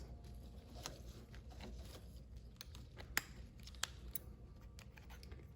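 Quiet snipping and crisp clicks of scissors cutting a plastic plant pot, a few sharper cuts standing out over faint background rustle.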